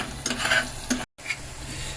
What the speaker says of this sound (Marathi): तर आपला कांदा चांगला भाजला आहे